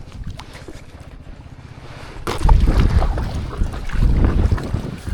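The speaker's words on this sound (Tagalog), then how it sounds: "Itong hangin na to." Strong offshore wind buffeting the microphone on a small fishing boat out chasing skipjack tuna, low rumbling gusts that swell louder partway through, with sea and hull noise beneath.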